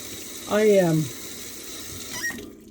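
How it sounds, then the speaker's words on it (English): A kitchen tap runs with water, opening with a loud, falling, squealing pipe whine that fades into a softer rushing flow, with a brief second squeak near the end. "My water's running."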